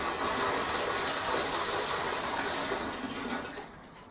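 Water under high pressure gushes from a tank tap at an off-grid outback property, a loud steady rush that fades as the tap is shut off near the end.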